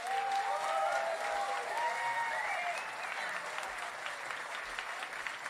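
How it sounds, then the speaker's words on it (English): A crowd at a wildlife film premiere with a murmuration choir gives a round of applause for the keynote speakers. The clapping is steady and fairly close, with faint voices or singing tones over it, then thins slightly toward the end. "another round of applause for these wonderful keynotes"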